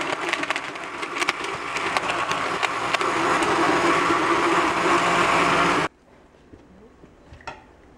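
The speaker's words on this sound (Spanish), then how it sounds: "Más bien a prender la licuadora." A blender whirs loudly and steadily with a gritty, rattling grind for several seconds, then stops abruptly, leaving quiet room sound and a faint clink.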